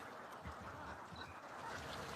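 Ducks on a flooded rice farm, raised by a breeder for meat, quack faintly amid a dense, steady wash of outdoor background noise.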